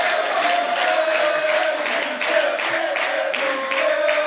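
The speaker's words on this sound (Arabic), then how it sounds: "تصفيق على هشام" An audience at a televised talent contest applauds contestant Hisham, with dense, steady clapping from a crowd that lasts throughout and carries a bright ringing tone above it.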